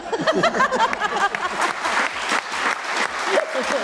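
A studio audience claps at a Pakistani TV talk show, a brief burst of close, lively applause with a few voices mixed in.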